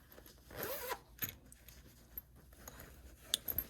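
A zipper closes on a handmade fabric cosmetic bag: a quick, close rasping pull, followed by a few soft handling taps and rustles.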